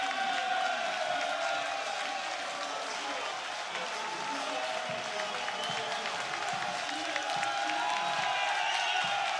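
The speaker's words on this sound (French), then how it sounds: "Il va remplacer Van Lanschot, il va être applaudi aussi." A football stadium crowd at a Belgian match between KMSK Deinze and Beerschot applauds a substituted player, a steady dense wash of distant clapping and crowd noise sustained throughout with no break.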